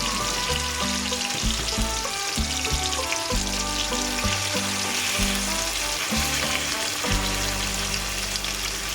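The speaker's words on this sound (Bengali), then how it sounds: "এবার আমি চিংড়ি মাছগুলো একটা করে দেব, একদম হালকা করে একটু ভেজে নেব।" Prawns fry lightly in hot oil with a steady, close, crackling sizzle that holds without pause throughout, and no one speaks.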